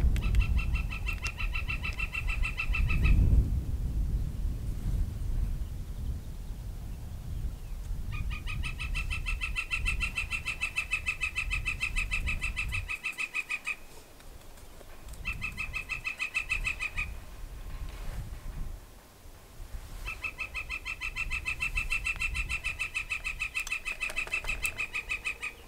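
An outdoor bird repeats a loud, rhythmic chattering call in long bursts with pauses between, heard close over steady wind or ambient noise during plein air painting of the Three Sisters mountains.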